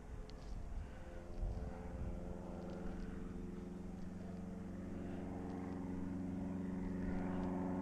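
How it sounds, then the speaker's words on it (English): A propeller airplane drones overhead in outdoor Alaska, a faint, steady engine hum that slowly swells and lingers. "Plane."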